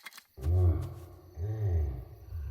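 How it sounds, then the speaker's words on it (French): A cartoon bear lets out two deep, rumbling roars in quick succession, loud and close, with a third starting at the end, and no voices over them. "Rassurez-vous, Odile, j'ai toujours mon spray anti-ours sur moi."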